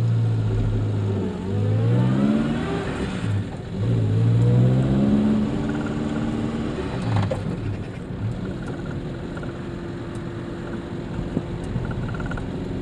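A Simca Ariane 4 engine pulls from inside the car, its pitch rising, dropping at a gear change into second, then climbing again before settling into a steady cruising drone under ongoing road noise.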